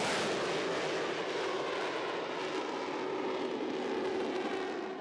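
A fixed-wing aircraft roars steadily on its takeoff run, a loud, continuous broadband engine rush that holds without pause for the whole stretch.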